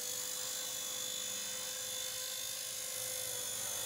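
A Blade Nano S2 RC helicopter hovers indoors, its small motor and rotor giving a continuous high-pitched whine with a steady tone, close and unbroken, with no voices.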